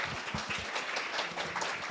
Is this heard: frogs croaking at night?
no